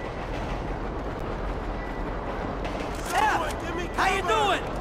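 A train rolls past in GTA V during a bank robbery mission, a steady rumble of rail noise with faint clatter throughout, while voices shout briefly over it near the end.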